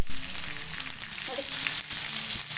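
Roopchand fish pieces for a rava fry sizzle in hot oil in a pan, a loud, close, continuous crackling hiss with small pops and occasional stirring.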